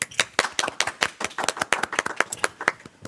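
A small group claps along a French Bible-stories podcast opening, producing sharp, uneven hand claps close by for about three seconds, with no voices over them.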